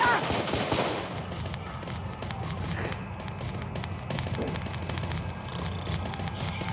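Gunfire in a prison simulation video game: dense, continuous shooting with rapid crackling bursts throughout, fairly loud and steady, with a voice briefly audible underneath.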